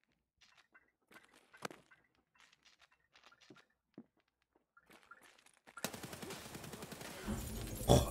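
Escape from Tarkov gameplay: quiet footsteps and faint handling clicks give way to a sudden loud, sustained stretch of rapid gunfire that continues to the end.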